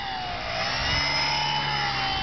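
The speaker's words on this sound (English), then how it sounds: "Thank goodness that 200 watt motor sure makes a difference on this one." A 200-watt electric motor on a homemade hat-mounted build runs steadily with a high, even whine that rises slightly in pitch, alone and fairly loud.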